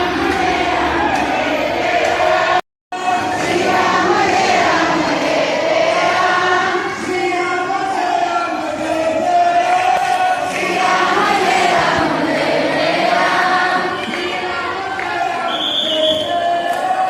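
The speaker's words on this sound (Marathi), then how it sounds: "मंदिरात गेल्यावर सुद्धा तितकीच गर्दी होती।" Dense crowd murmur fills the interior of the Shri Bhagwant temple in Barshi during Ashadhi Ekadashi, a steady loud wash of many voices with one brief dropout early on.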